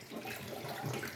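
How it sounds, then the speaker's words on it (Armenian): Muddy eggplants and peppers are rinsed under a running kitchen tap, a brief, fairly quiet, steady wash of flowing water splashing over the vegetables. "հոսող ջրի լավ լվանամ, որ մաքրվի, սմբուկները բոլորը ցեխոտ են։"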